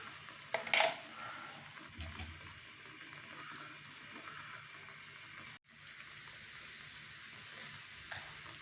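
Sweet kuzhi paniyaram frying in oil in a pan on a gas stove gives a soft, continuous sizzle, faint and close, with a short clatter near the start and a brief dip midway.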